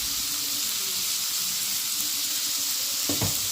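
Curry with salt being stirred in a frying pan, a steady sizzle and hiss running throughout at moderate level, with a brief louder scrape of the spoon near the end.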